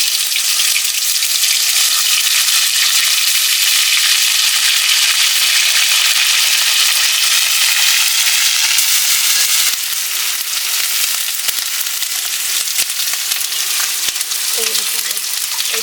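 Chili, cumin, ginger and garlic frying in hot oil give a loud, continuous hissing sizzle up close that holds steady the whole time, easing slightly partway through, with a few faint clinks near the end.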